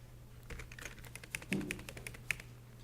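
Keystrokes on a computer keyboard during a chip-design software session: a short run of quiet, uneven clicks and taps over a faint steady electrical hum.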